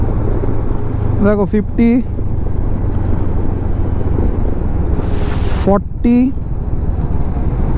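Honda NX 500 motorcycle slowing down in fourth gear, a steady engine drone under heavy wind rush from riding, with someone talking over it at close range.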